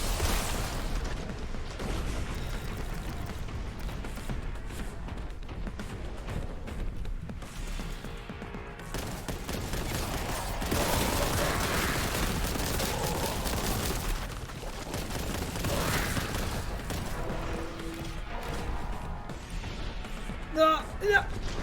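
Plasma weapon fire and explosions from the video game Boltgun, a dense, loud barrage of blasts and booming bursts rolling on without pause, with sharper pops near the end and a voice faintly underneath.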